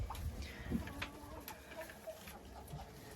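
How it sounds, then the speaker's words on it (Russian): Old hens of mixed ages in a backyard coop aviary, clucking softly in scattered bursts; the calls are faint and close, set against quiet background rustling, with no one speaking. "Здесь у меня живут старые куры"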